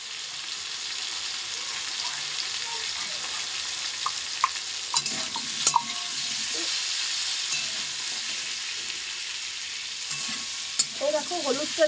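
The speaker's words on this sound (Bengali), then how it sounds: "এই দেখো হলুদটা দিয়ে একটু ভালো করে নাড়াচাড়া করে নিচ্ছি" Potatoes fry in hot oil with turmeric for aloo dum and are stirred in the pan, giving a steady close sizzle broken by scraping clicks and clatter from the spoon, louder near the end.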